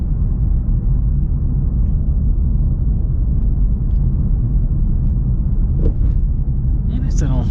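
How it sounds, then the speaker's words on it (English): Steady low road and tire rumble inside a 2025 BMW M5 Touring running on Hankook tires, a constant loud drone throughout with a few brief thumps near the end. "You can hear quite a bit happening through with the road noise and all of that."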